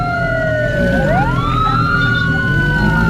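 A wailing emergency siren in the Roblox video game, a loud sweeping tone that dips and then climbs back up, sustained steadily over a low engine rumble.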